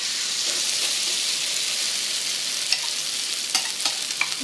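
Food being stirred in a pan gives a steady bright sizzle and fry hiss, with a few soft scraping clicks of the utensil toward the end, close and alone without talk.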